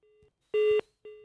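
Beeping tones on a radio phone-in line while a caller is connected: a faint steady tone, then a louder, buzzier burst lasting about a quarter second, then a short tone again, with no talk.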